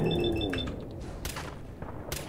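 Gunfire in the video game Fallout 4, a few sharp cracking shots and thuds amid busy game noise and fading tones, close and loud.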